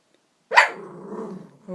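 A dog lets out a short howling vocalization, rising sharply then trailing into a lower drawn-out moan, close by in a quiet room.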